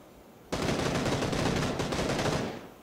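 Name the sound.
gunfire from across the lake in video game PUBG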